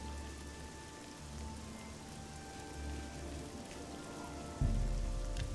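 Steady rain falls in the town of Cheydinhal in the video game Oblivion, a continuous even hiss of drops with a low rumble joining near the end.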